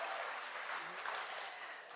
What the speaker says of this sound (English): Another big round of applause for Mr.